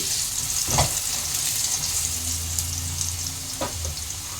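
Potatoes with turmeric fry golden brown in hot oil, a steady, even sizzle close to the pan, with a couple of brief clinks from stirring. No talking is heard.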